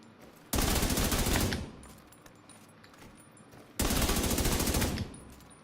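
Assault rifle gunfire in the video game The Division 2: two sustained automatic bursts of rapid, evenly spaced shots, each about a second long and loud, separated by a quieter pause.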